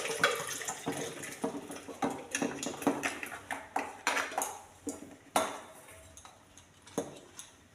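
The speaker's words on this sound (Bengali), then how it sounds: "আর একটু জল দিয়ে দেবো এর মধ্যে" Water is added to a bowl of jujubes being washed for pickle: close, repeated clinks and clatters of a metal bowl and utensils ring out over a splashing, running-water wash, with no talk.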